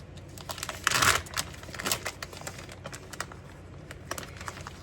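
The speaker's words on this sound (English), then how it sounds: "just opening the bacon package" A plastic bacon package is opened in a kitchen before cooking on a George Foreman grill, giving close crinkling and tearing sounds with a louder burst near the start and smaller scattered rustles after.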